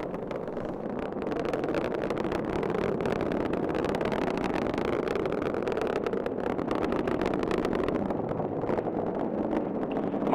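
Rocket booster engines roar during the TDRS-L launch as a steady, dense, broadband rumble that holds constant throughout, distant and unbroken, with no voices.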